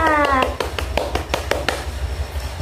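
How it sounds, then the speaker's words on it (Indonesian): A primary school class claps together in a classroom, a quick burst of sharp, close hand claps in an uneven rhythm just after a short spoken phrase, thinning out toward the end. "Oke, tepuk tangan buat kita semua."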